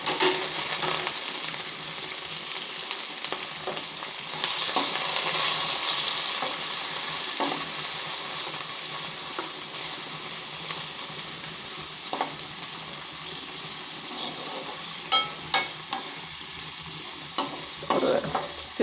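Brinjal and onion frying in oil in a pan, a loud steady hiss with occasional scraping stirs and light knocks of a spoon.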